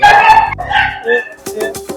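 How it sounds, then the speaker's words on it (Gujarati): A dog barks and whines in short yelping bursts, close and fairly loud, mixed with a brief spoken word and outdoor background noise. "કૂતરું રડે"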